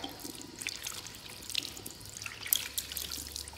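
Water running from a tap while hair is washed after a perm, a steady soft splashing and dripping stream, faint and close, with no talking.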